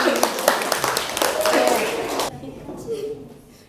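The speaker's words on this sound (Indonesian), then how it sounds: "Tepuk tangan." Students in a classroom clap in a brief burst of close, lively applause that fades out partway through.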